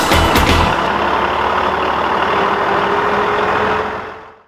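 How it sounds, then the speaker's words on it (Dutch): A large truck arrives at Beekse Bergen safari park, its loud engine rumbling steadily and close, with a few sharp knocks at the start before the sound fades away at the end. "De grote vrachtwagen komt aan in het safaripark."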